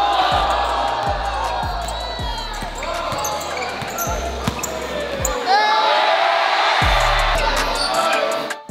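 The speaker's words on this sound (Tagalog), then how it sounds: "Sa bawat galaw nga ay hiyawan ng mga tao" A loud crowd cheers and shouts at a basketball game, with repeated ball bounces thumping on the court beneath the steady roar and rising whoops near the end.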